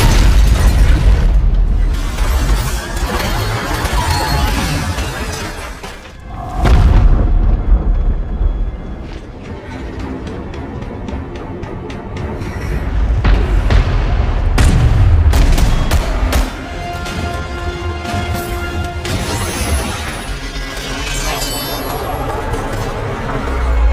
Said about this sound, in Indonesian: satu tembakan yang membuat perjalanannya terhenti dan nyaris membuatnya tewas